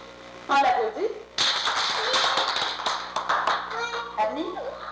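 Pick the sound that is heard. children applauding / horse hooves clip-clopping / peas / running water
children applauding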